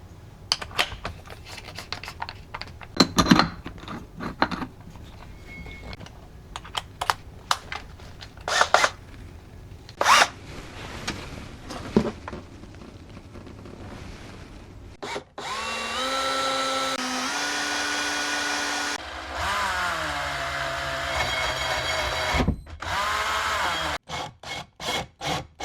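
Power drill boring holes through a partition panel in a Toyota Pixis kei van during a camper electrical build, with scattered clicks and handling noises first, then a loud sustained whining drill run that rises and dips in pitch.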